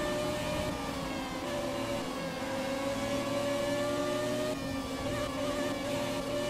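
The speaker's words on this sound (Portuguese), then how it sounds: "O ronco desse motor, hein, velho." Williams FW18 Formula One car from 1996, driven in the F1 2017 racing game, gives a loud, steady engine roar with a rising whine that dips briefly near the end. No one speaks.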